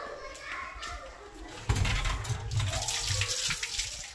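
Coriander is rinsed under a running tap, a steady splashing stream that grows louder partway through, with children's voices and someone talking over it.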